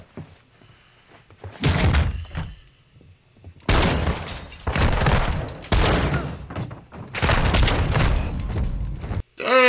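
Gunfire erupts in bursts during a Modern Warfare II firefight: loud, dense volleys of shots and impacts come close up, separated by brief lulls, with voices talking in between.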